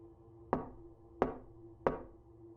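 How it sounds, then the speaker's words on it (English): Three evenly spaced knocks on a door, sharp distinct raps with short gaps between them, heard alone against a faint low hum. "I hear a knock at the door"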